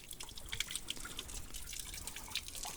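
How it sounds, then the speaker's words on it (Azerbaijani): Water from a roadside spring on the road from Malbeyli to Khojavend drips steadily, a quick scatter of faint, bright plinks and drops against a soft background hiss. "Burada da belə bir bulaq var."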